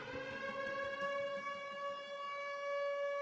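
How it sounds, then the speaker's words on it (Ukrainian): A civil defense air raid siren wails steadily at one sustained tone with rich overtones, loud and continuous for the whole stretch. "оре сирена."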